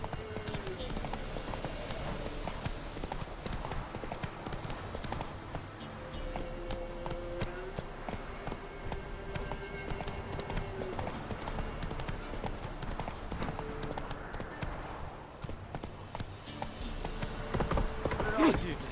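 Hooves of the horse Roach clip-clop in a steady trotting rhythm in The Witcher 3, under continuous game music and ambience, with a rider's voice speaking at times.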